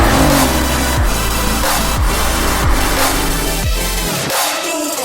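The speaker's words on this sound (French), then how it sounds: "C'est un moteur essence, il n'a pas peur de prendre les tours et il les prend avec plaisir." Petrol engine of a BMW X2 sDrive with a dual-clutch gearbox, revving hard through repeated upshifts, each rising climb cut by a quick shift, loud and close from start to finish.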